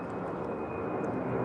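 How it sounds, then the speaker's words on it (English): A fixed-wing airplane passes overhead outdoors, its steady broadband engine roar holding level and loud across the whole moment, with no voices over it. "had a plane going over my head"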